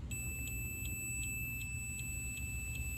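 A multimeter's continuity beep, a steady high-pitched electronic tone sounding continuously, with faint rhythmic ticking pulses over a low background hum, while testing a riding lawn mower cable.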